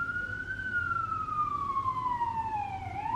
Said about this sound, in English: I'm just gonna wait a minute for the sirens.